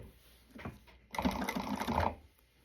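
A domestic sewing machine runs a short burst of fast, even stitching through wristlet fabric along the seam, close and fairly quiet, with a few soft handling clicks before it starts.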